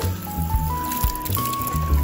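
Water runs from a tap into jars being filled, a steady close pour whose pitch slowly rises as each jar fills.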